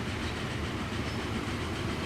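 A train runs in the Transport Fever video game, heard as a steady, dense rolling rumble with a faint rhythmic clatter, continuous and fairly loud throughout with no talk.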